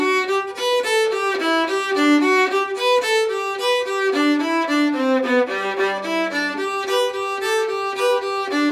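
Fiddle bow rocking back and forth across strings without double stops on the tune Leather Britches, a steady rhythmic pulse of bright bowed notes played close and alone.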